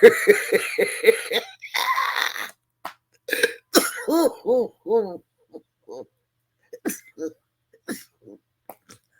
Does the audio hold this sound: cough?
yes